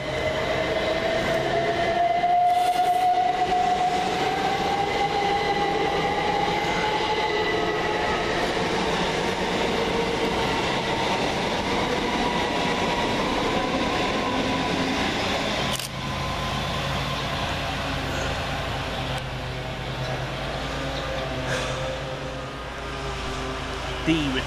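Two coupled Class 377 electric trains pass close by at Burgess Hill railway station, with a sustained rumble of wheels on rails, a rising motor whine early on, and a faint squeal.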